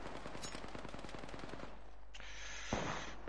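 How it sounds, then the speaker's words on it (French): Gunfire in the Apex Legends video game, a rapid automatic burst of loud repeated shots for about two seconds, followed by a hissing blast and a sharp thud, with no voices. "Je tire."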